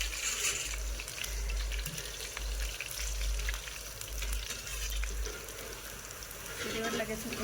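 Boondi batter frying in oil over a wood-fired clay stove, a soft steady sizzle with bursts of bubbling, occasional clinks and a low rumble of the fire beneath, fairly faint.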